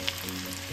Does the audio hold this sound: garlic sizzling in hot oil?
yes